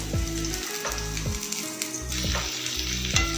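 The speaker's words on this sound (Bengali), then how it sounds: "রসুন কুচিটা দিয়ে পেঁয়াজ কুচিটাও দিয়ে দিয়েছি, আর লঙ্কাও কুচি করে দিয়েছি" Chopped garlic, onion and green chilli fry in a little oil in a pan for chilli chicken, a steady close sizzle running throughout with brief stirring touches.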